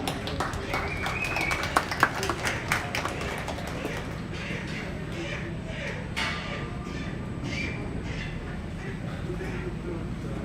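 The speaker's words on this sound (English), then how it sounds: "Let's give all of them a round of applause for a job well done" An audience claps through a round of applause in an indoor junior livestock show arena, a steady wash of many hands with scattered louder claps, while a voice talks over it on the public address.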